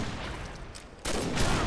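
Gunfire in the online shooter Combat Arms, a dense burst of rapid shots that dips briefly then resumes louder and close, with no talk over it.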